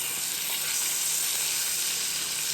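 A steak sizzles and fries in butter in a pan, a steady, close, broadband hiss that holds at the same level throughout with no voices over it.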